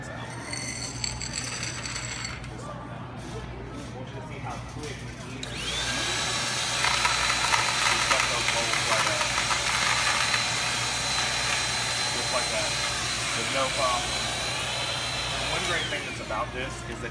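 A Merlin vacuum sucking up loose bolts: a few metallic clinks and handling rattles, then a loud steady motor whine with bolts rattling through the hose and into the canister, with talking over the start.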